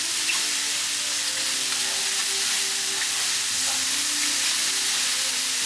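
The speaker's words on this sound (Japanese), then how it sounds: "この時キノコがキュッキュッと鳴きます。" Mushrooms fry in a pan with a dense, loud, steady sizzle that continues without a break and has no speech over it.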